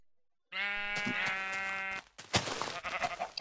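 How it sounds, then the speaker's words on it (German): Sheep in Minecraft bleat in a long, steady, droning call, followed by a burst of clattering game noise, with no talk. "Nochmal ein Schaf!"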